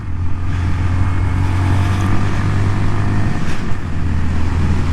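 A 2019 Honda Monkey motorcycle being ridden and shifted through gears, with a steady close-up engine drone and wind rumble, a brief dip near a gear change.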